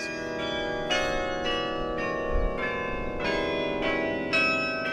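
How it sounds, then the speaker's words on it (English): The Joseph Dill Baker Memorial Carillon rings out a slow melody, each struck note blooming and overlapping the last, rich and resonant with no voices. "to hear him play that carillon on the weekends"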